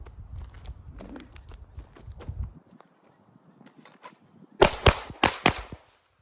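Handgun shots in a beginner concealed-carry drill firing pairs on each target, four sharp loud cracks in quick pairs near the end after quieter shuffling and handling noise.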